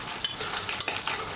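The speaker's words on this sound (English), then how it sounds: "get a fork and give it a stir" A fork whisks eggs in a jug for scrambled eggs, giving a quick run of light, close clinking taps and swishes over about a second.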